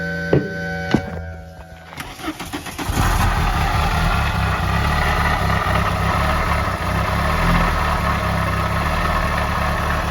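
A Volkswagen Jetta engine that sat unused for over ten years idles roughly and loudly close by after some opening clatter and knocks, settling into a steady, gnarly drone.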